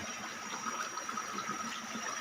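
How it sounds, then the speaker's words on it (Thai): Steady rushing of water in a deep forest stream, a continuous soft broadband wash with no pauses and no one speaking. "มีลำน้ำด้วย มีลำธารด้วย ลึกด้วยนะนี่"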